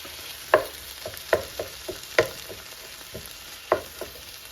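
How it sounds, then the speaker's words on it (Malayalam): Tomatoes fry in a pan for a Kerala-style prawn roast, with a soft sizzle under several distinct scraping stirs from a spoon at irregular intervals, close by and with no talk. "അതിനുശേഷം അതിലേക്ക് തക്കാളി ഇട്ട് കൊടുക്കുകയാണ്."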